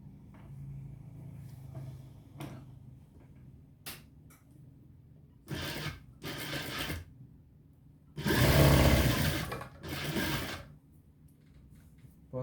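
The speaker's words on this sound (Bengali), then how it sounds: "প্রথমে আমি ব্যাক পার্ট সামনা পার্ট একসাথে সেলাই করে দিই।" A sewing machine joins the back and front parts of a garment, running in several short bursts with quiet pauses between, the longest and loudest run near the end.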